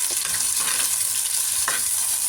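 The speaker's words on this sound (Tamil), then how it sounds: "வெங்காயம் நல்லா வதங்கணும்." Onions frying in a clay pot give a dense, continuous sizzle with faint stirring scrapes, close and fairly loud throughout.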